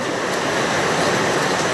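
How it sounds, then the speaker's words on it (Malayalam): A downpour of heavy rain hammers around a Kerala home in a thick, constant wash of noise, loud and even from start to finish, with no one talking. "കേറി വാ ഭയങ്കര മഴയാ"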